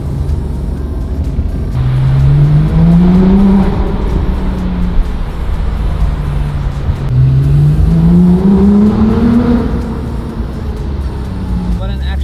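A high-powered car, with a Camaro nearby, drives on the way to a gas station at Shell Magallanes, its engine droning loud and close and rising in pitch twice as it accelerates through the gears, with a voice talking over it.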